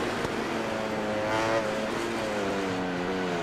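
Racing motorbike engine in MotoGP 20 on Xbox One X, a loud, close, continuous high-revving whine with rising and shifting pitch as the bike speeds around the track during a race.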